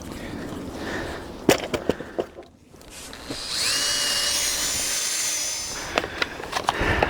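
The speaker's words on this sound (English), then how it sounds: "My drilling is appalling." A power drill with a wood bit works on fence construction, rising into a sustained whining bore for a few seconds between sharp knocks and clatters of handling before and after.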